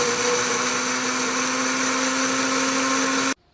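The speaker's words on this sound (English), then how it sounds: "Then into a blender with some water, just a little bit." A blender whirring steadily as it purées raw testicles with a little water, a loud constant motor whine with a droning pitch that stops abruptly at the end.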